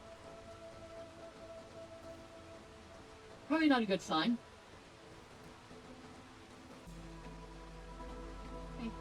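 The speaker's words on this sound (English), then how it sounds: "Now it's very stormy right now." Stormy rain from the colony-building video game Against the Storm, a steady soft hiss of rainfall running throughout, with a brief burst of speech over it and a low hum coming in near the end.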